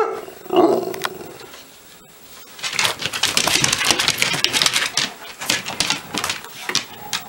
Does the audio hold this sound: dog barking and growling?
yes